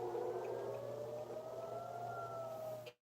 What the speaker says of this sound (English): while sirens sounded in Haifa